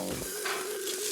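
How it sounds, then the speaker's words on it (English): Cactus paddles sizzle on a grill with a steady, bright hiss and a faint scrape near the start. "Chef Christopher now is grilling his cactus paddles."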